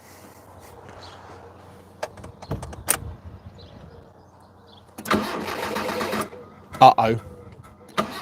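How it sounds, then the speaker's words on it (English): A Proton Saga Iswara car being started, with a short cranking burst that catches into a running engine, plus a few clunks and thumps nearby and a person speaking briefly. "let's start the car up."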